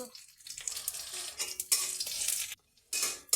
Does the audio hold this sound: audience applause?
no